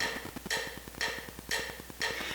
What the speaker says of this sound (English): That's the sound of a metronome.